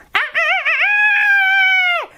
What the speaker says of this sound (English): Too loud, random rooster.